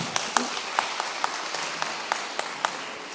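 Sparse, evenly spaced hand claps from an audience at a Christian religious message, several sharp single claps at a steady rhythm over a constant low background hiss, with no talk.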